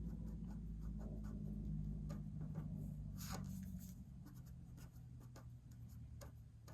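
A pen scratches on paper in short, soft strokes during planning, faint and close against a low background hum, with no talking.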